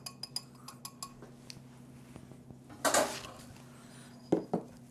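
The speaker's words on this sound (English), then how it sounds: "So with the glaze, I just wanna make sure, stir it up just a little bit" Vanilla bean glaze for cinnamon rolls being stirred, a series of light close clinks of a utensil against a bowl, with a louder scraping burst in the middle and two more clinks near the end.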